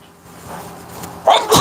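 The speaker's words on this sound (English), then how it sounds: "I have to sneeze." A person sneezes indoors during a live stream, a single sharp burst near the end after a short quiet lead-in.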